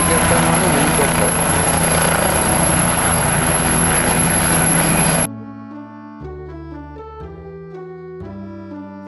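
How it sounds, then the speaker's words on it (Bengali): A helicopter's rotor and engine drone loudly and steadily for about five seconds, then the sound cuts abruptly to a simple keyboard-like melody. "এটা হলো হেলিকপ্টার।"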